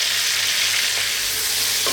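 Food fries with fresh thyme in a pan, a loud steady sizzle up close, with a scrape from stirring breaking through near the middle and again at the end, and no voices.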